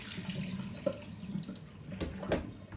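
Rice being rinsed under a running kitchen tap, water pouring and splashing steadily into the sink at close range, with a few brighter splashes and no voices.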